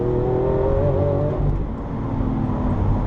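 A 2014 Lamborghini Aventador LP 700-4 engine pulls hard, a loud close-up roar with a rising tone that dips into a lower, steady drone partway through.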